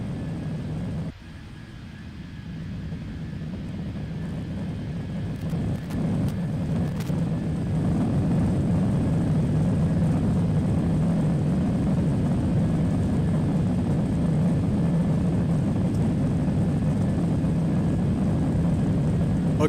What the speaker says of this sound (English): Let me pause the video just a minute so you can hear the aircraft sounds